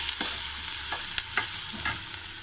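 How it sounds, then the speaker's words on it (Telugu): Sliced onions fry in oil with green chillies and turmeric for an egg curry, a close crackling sizzle broken by several quick stirring scrapes. "ఆనియన్ లైట్ గోల్డ్ కలర్ వచ్చాక ఫ్రై చేసుకోవాలి"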